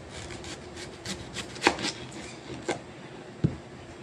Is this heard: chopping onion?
yes